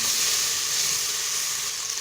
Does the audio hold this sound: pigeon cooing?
no